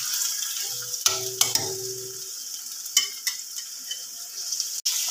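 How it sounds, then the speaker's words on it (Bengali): Onions fry in oil in a kadai, giving a steady soft sizzle with a few stirring clinks and scrapes near the start. "এবার কড়াইতে আমি তেলের মধ্যে একটু পেঁয়াজ দিয়ে দিয়েছি।"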